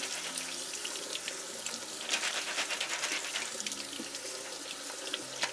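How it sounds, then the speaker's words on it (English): Beans are rinsed under running tap water at a sink, a steady close hiss and splash of flowing water with small fluctuations as the beans are stirred beneath it. "I want to make sure you rinse them, really clean them really well"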